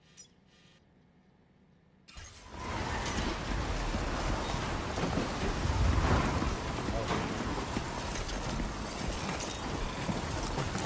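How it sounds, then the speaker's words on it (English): A storm rolls in during a Death Stranding 2 game: after a quiet start, a sudden roar of wind and heavy rain surges in and stays loud and steady, with deep rumbling swells beneath. "Storm's coming through."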